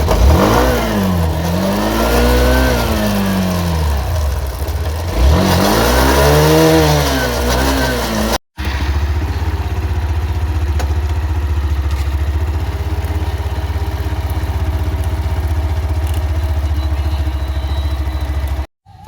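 A Hero Xtreme 160R motorcycle engine running during home servicing, revving loudly with rising and falling pitch, then settling into a steady, close idle with a constant low rumble, no talking.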